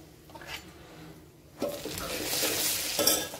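Crushed peanuts go into a pan with cumin on low heat, and a faint clatter gives way to a louder, rising sizzle with a few scraping stirs near the end.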